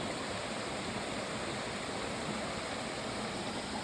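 A small waterfall in a clear-water stream at Tham Phra Phothisat in Thailand rushes steadily, making a continuous, even wash of flowing water with no voices.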